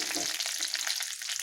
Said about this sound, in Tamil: கடுகும் வெந்தயமும் பொரிஞ்சிருச்சு, கருவேப்பிலை போட்டுக்கலாம்.